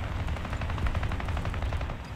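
Rapid machine-gun fire in War Thunder during a Swedish ground-forces tank battle aimed at an M18, a fast even stream of shots with a steady rhythm throughout, loud and close.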